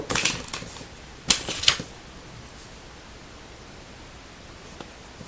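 A sheet of paper folded in half, giving brief crisp rustles and creases at the start and again around the middle, then a quiet stretch with a faint crinkle near the end.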